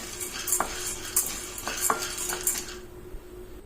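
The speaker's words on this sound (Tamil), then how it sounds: "பச்சை வாசம் போகிற வரைக்கும் நல்லா வறுத்து விட்டுங்க ஒரு ரெண்டு ரெண்டு மூணு நிமிஷம் நல்லா வறுத்துங்க" Ingredients for a sweet being dry-roasted in a pan, a utensil scraping and clinking against the metal at irregular intervals, close and fairly loud, with no voices.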